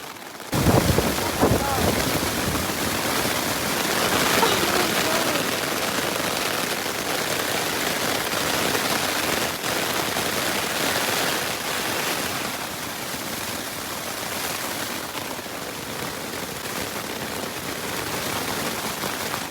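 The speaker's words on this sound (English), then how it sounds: "I'm gonna listen to the rain." Steady rain patters across surfaces at a riverside campsite in Montana in a dense, continuous hiss, with a few louder drips and some wind buffeting the microphone early on.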